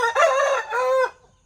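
A rooster crows loudly and close, one strong drawn-out call that breaks into a second rising phrase before fading, with no other sound around it.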